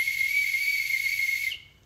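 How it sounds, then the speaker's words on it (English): A steady, piercing regular whistle blown at a constant high pitch, sounding loud and close for about a second and a half before cutting off abruptly, with no voices over it. "It's a regular whistle."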